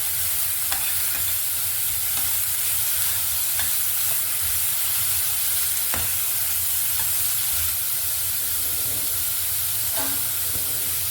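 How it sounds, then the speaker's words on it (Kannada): Sliced bitter gourd fries in a pan for a palya, a steady, loud sizzle that runs throughout, with occasional sharp clicks from stirring and no voices. "ಹೆಚ್ಚಿಟ್ಕೊಂಡಿರೋ ಒಂದು ಹಾಗಲಕಾಯಿ ಹಾಕ್ಬಿಟ್ಟು ಇದೆಲ್ಲ ತುಂಬ ಚೆನ್ನಾಗಿ ಫ್ರೈ ಮಾಡಬೇಕು"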